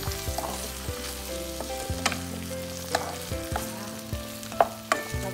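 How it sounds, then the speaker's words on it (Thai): Brussels sprouts stir-fried in a pan, with a continuous close sizzle and repeated scraping knocks of a utensil stirring the vegetables, no voices. "แล้วก็เทผักใส่ลงไปเลยเพื่อคน นะคะ ก็เป็นกะหล่ำดาวนะคะ"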